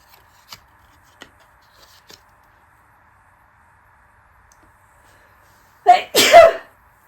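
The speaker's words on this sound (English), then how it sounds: "oh no, I'm going to sneeze" A person sneezes loudly and close by with a sharp intake and burst, preceded by a few faint clicks and small handling noises in an otherwise quiet room.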